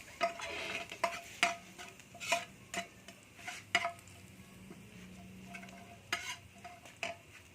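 Ground meat stirred in a hot pan until golden brown, with a soft continuous sizzle under repeated sharp spatula scrapes and taps against the pan at an irregular rhythm.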